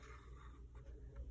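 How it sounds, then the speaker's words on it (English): Pencil writing on paper, with soft, brief scratching strokes close by over a low background hum. "I pick up my pencil each time I get to the grass line and then cross it neatly on the plain line."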